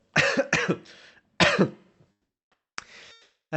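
A few sharp, close coughs in quick succession, a short pause, then another cough and a fainter throat-clearing burst.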